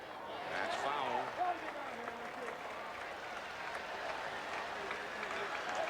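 Lively crowd at Yankee Stadium during a 1991 Red Sox versus Yankees night baseball game, a broad distant roar of cheering and applause that swells briefly early, then settles into a steady background wash.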